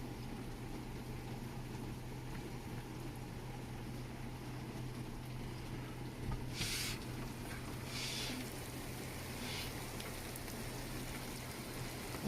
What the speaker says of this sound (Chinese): 这狂风暴雨，